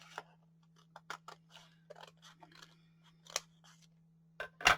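Scissors snip through a paper business envelope in a quick series of crisp, close cuts, several soft clicks followed by a couple of sharper snaps, over a faint steady hum.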